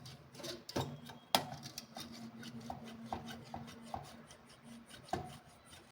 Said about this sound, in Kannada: ಈಗ ನಾನು ಮಜ್ಜಿಗೆ ಕಡಿತೀವಲ್ಲ, ಅದರಿಂದ ನಾನು ಮಜ್ಜಿಗೆ ಕಡಿತಾ ಇದ್ದೀನಿ.